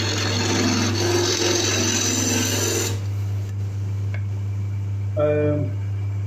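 Wood being bored on a lathe gives a rough, grinding scrape for about three seconds over a steady motor hum, then the hum carries on alone, broken by a faint tick and a short squeal.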